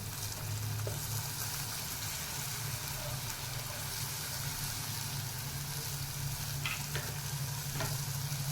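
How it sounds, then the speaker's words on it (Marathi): Chopped dill leaves sauté in a pan with a steady, even frying hiss that runs throughout, close and without speech, with a couple of faint utensil taps near the end. "दोन मिनिट आपल्याला हा शेपू परतून घ्यायचा आहे"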